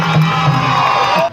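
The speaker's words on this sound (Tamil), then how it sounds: "உன் பாடலை கேட்டு இந்த அரங்கமே கைத்தட்டி சிரிக்கிறது." Hall audience at a Tamil folk art troupe performance responding to a song with clapping, cheering and laughter, a loud close crowd roar that cuts off abruptly at the end.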